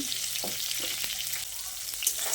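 Pointed gourd pieces frying in hot oil with turmeric and salt, a steady bright hiss of sizzling with occasional soft pops and stirring knocks, close and alone.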